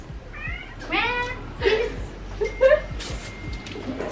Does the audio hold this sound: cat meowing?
yes